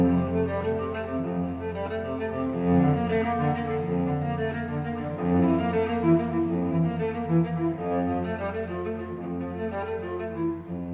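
Solo cello playing a continuous bowed passage tuned to a historical Roman temperament, with rich sustained tones and overlapping harmonics at steady moderate loudness, no speech.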